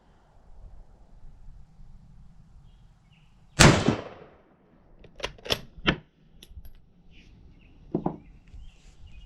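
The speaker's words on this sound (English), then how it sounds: "So that was five rounds of the Romanian and 5 rounds of the Turkish." A Yugoslavian M24/47 Mauser rifle fires Romanian and Turkish surplus ammunition outdoors: one loud, sharp report, then a few quieter cracks or clanks and another short bang a few seconds later, all without speech.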